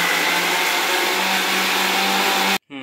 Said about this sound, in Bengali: তারপর মিক্সিতে করে পেস্ট করে নেব